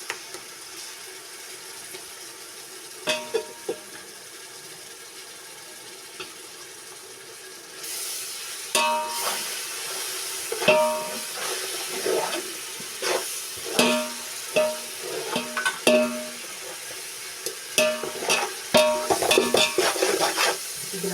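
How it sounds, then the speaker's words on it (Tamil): Shallot paste sautéing in a pan for chicken biryani: a quiet start with a few scrapes, then a steady sizzle that swells partway through, broken by repeated clinks and scrapes of stirring, with no talk. "சின்ன வெங்காயம் பேஸ்ட் நல்லா வதக்கி"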